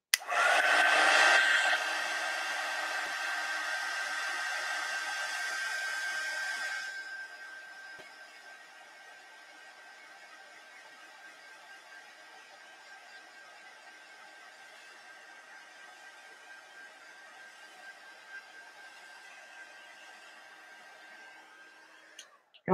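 Hair dryer blowing to dry glue medium on a metallic bear craft piece: a loud close whoosh for about seven seconds, then a much quieter steady whine that continues until it clicks off.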